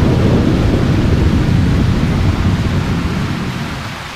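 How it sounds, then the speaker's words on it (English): Heavy rain and rolling thunder from a storm in the horror game Lost in Vivo, a loud, dense rumble that holds steady and then slowly fades toward the end, with no voices. "It's just getting a little more stormy."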